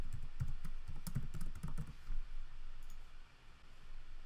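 Quick, close clicks of a computer keyboard as a short name is typed, a rapid cluster of keystrokes in the first two seconds followed by quieter room noise.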